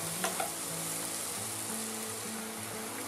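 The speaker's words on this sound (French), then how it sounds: "2 cuillères comme ça d'oignons. Pas besoin d'en mettre plus. Voilà, on va faire revenir ça tranquillement" Chopped onions sauté gently in a pan for salmon and John Dory, with a steady soft sizzle that stays close and even throughout, with no talking.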